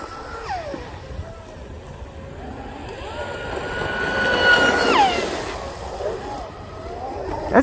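An electric Surpass Rocket 4082 motor spins a three-blade prop on a fast RC boat, giving a high-pitched whine that sweeps up and down in pitch over a hissing background, with people talking nearby.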